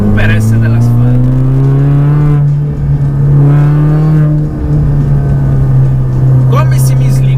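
A Mini Cooper S R53 on Yokohama Advan semi-slick tyres, its engine droning loud and close at steady revs with gear changes shifting the pitch, while someone talks over it.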